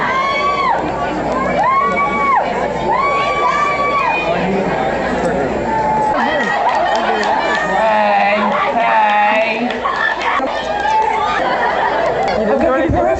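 A convention audience yells and chatters in a loud, continuous crowd roar, with overlapping shouts and excited voices throughout, while a voice speaks over the din.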